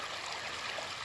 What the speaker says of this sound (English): Look at this beautiful stream here